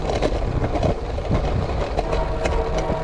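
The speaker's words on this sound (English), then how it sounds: "Now we got a train coming." A train passes close by the railroad tracks during a bicycle ride on brick roads, its steady loud rumble and clatter filling the scene without any talk.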